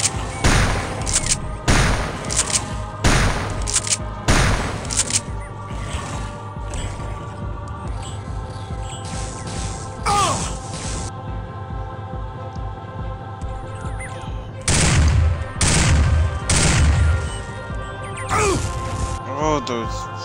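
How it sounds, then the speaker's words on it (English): Halo firefight on the River of Souls level, with repeated sharp explosive blasts and bursts of gunfire and plasma shots in loose clusters, some strong booms at the start and again near the end, over steady game noise and occasional voices. "Freaking grenades!"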